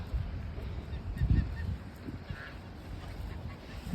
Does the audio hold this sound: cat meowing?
no